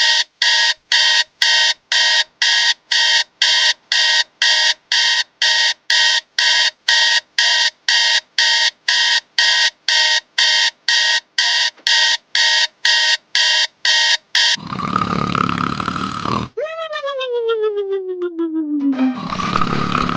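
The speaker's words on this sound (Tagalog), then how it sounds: "Kanina pa yung alarm na tumutunog." A loud electronic alarm clock beeps in a fast, steady repeating pattern for many seconds, then gives way to a drawn-out groaning, yawning voice in an animated scene.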